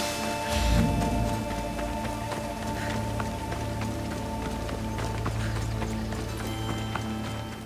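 Horse hooves clip-clop at a steady rhythm in the video game Assassin's Creed Odyssey, with a continuous rain-like patter and a low background drone and no speech.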